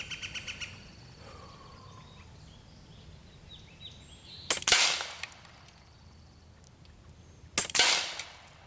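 An LCS Air Arms SK19 .30 caliber PCP air rifle fires two sharp, loud cracks about three seconds apart outdoors, with faint birdsong in the quiet background between shots.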